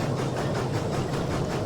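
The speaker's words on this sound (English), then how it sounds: "you can already hear the engine struggling. It's starting to slow down." Steam locomotive in the train simulator Derail Valley, straining and slowing under full throttle: a steady low engine rumble with a faint rhythmic chuffing pulse, heard alone.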